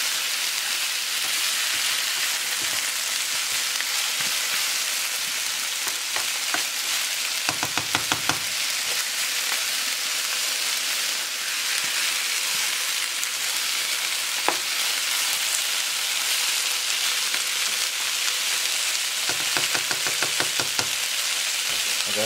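Oxtail frying and sizzling in a pot over a medium flame for a Jamaican oxtail dish, heard as a steady close hiss with occasional clinks and scrapes of stirring and no voices.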